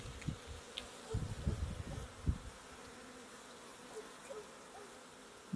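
Honeybees buzz faintly during a hive inspection as brood frames are worked through, a soft low hum with a few brief louder swells and bumps early on, then settling into a quiet steady drone.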